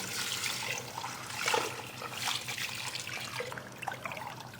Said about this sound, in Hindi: अब हम मिलाएंगे पानी।